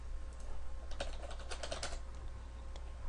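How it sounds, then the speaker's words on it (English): Typing on a computer keyboard as a search is entered, a short run of quick, light key clicks in an uneven rhythm over a steady low hum, with no talking. "type in download Eclipse"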